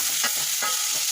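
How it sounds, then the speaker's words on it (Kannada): Capsicum and mushroom frying in a pan with chilli, pepper, garam masala and coriander powders, with a steady soft sizzle broken by a few scraping stirs, close and alone with no voices. "ಧನಿಯಾ ಪೌಡರು ಇಷ್ಟು ಹಾಕ್ಕೊಂಡ್ಬಿಟ್ಟು ಫ್ರೈ ಮಾಡಬೇಕು."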